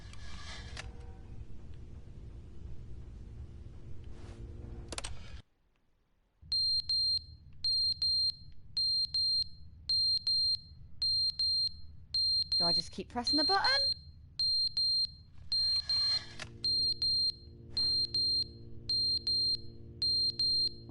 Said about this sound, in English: that beeping's annoying